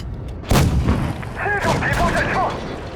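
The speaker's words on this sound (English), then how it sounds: "That's the IS-2 derp trying to aim for me, but he hit the track of a KV-3" A tank cannon shot from an IS-2 in World of Tanks booms out as a single loud blast that strikes a KV-3's track, followed by rumbling battle noise and someone talking over it.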